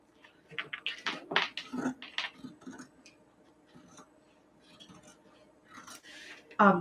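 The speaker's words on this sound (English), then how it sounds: "We need to cut the pocket out." Scissors snipping through fabric to cut out a heart-shaped dress pocket, a run of close, crisp cuts in the first seconds with quieter rustling and handling sounds after.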